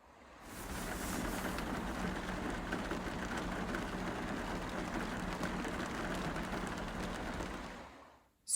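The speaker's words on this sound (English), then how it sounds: "rain falling" Steady rain falling, a dense, even hiss that holds for about seven seconds at moderate loudness, fading in at the start and out at the end, with no voices.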